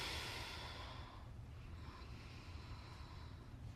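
Slow, soft breathing during a lumbar and quadratus lumborum roll-out on therapy balls, a faint airy exhale tapering off and then a quiet inhale, close and alone with no talking.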